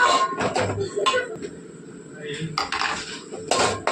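Prawns with turmeric powder are sautéed in a pan, heard as close metallic scraping and clanking of a spatula against the cookware in quick bursts, with a faint sizzle underneath.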